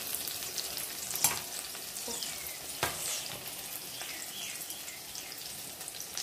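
Paneer frying in a pan sizzles with a continuous crackling hiss, broken by a few sharp scrapes and clinks of the spatula stirring, close and fairly loud, no talking.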